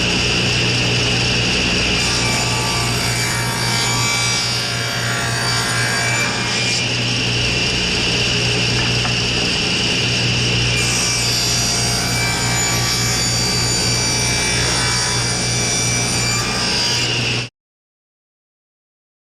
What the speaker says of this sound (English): we need to further rip it down into 3/4 inch strips to get a nice 3/4 by 3/4 by 12 3/16 inch bottom bar